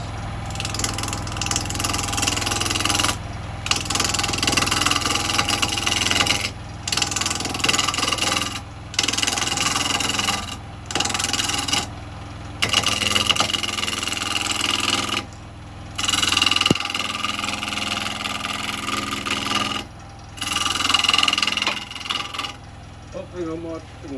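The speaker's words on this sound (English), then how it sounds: "I'm going to take some light cuts." A wood lathe rough-turns a wet wood blank with a carbide tool, giving a steady motor hum with rasping, scraping cuts that start and stop in short bursts separated by brief pauses.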